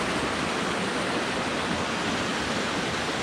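A mountain stream rushes and tumbles along a hiking trail near icy banks, a steady broadband roar of churning water holding even and fairly loud throughout, with no voices over it.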